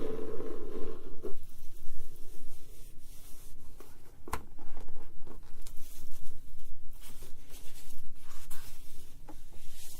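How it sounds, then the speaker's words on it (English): Plastic saran wrap over a fresh tattoo crinkles and rustles softly and continuously at close range, with scattered sharper crackles and no voices. "a little bit of crinkling saran wrap sounds as I have a new tattoo wrapped up still"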